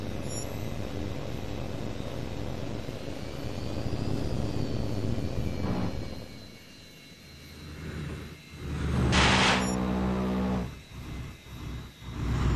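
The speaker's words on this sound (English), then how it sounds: "There's an H.A.W.X plane flying a basic patrol circuit in the training area." A loud video-game aircraft engine from H.A.W.X. roars continuously, swelling and fading as the plane passes, with a sharp burst of cannon fire near the end.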